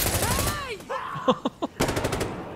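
Shotgun fire in a tactical first-person shooter game, several sharp booming blasts spaced apart, loud and close, mixed with a player's excited voice and other game noise.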